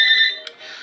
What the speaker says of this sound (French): pardon pour le téléphone